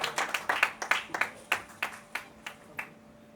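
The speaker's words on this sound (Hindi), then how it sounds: "तालियां, जोरदार तालियां" A small audience at a Hindi poetry recital claps in a loose, uneven burst of applause, fairly quiet and fading toward the end.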